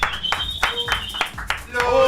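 Rhythmic hand claps welcome the guests Los Charros on a live variety stream, a steady run of sharp claps mixed with a voice and background sound.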